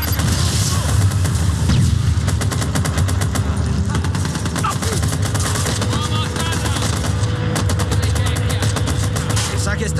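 An explosion and rapid gunfire from the video game Watch Dogs: Bad Blood, dense continuous bursts of shots with deep booming rumble, loud and sustained throughout.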